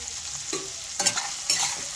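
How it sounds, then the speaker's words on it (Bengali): Turmeric and salt are stirred into spices frying in oil in a pan for a katla fish curry: a steady close sizzle with a few louder scraping strokes of the spoon. "এগুলোকে আমি ভালো করে মিশিয়ে নেব"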